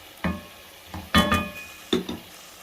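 Shawarma meat frying in a pan, with a few separate bursts of sizzling and metallic scraping as it is stirred, each lasting a moment before quieting.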